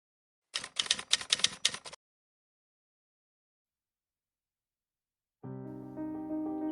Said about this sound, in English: my hands automatically went down to my keyboard and typed in